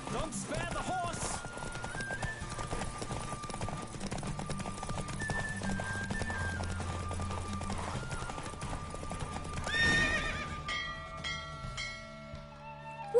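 A horse gallops during a race in The Witcher 3 on PS5, steady clip-clop hoofbeats running under game music, with a brief louder burst near the end.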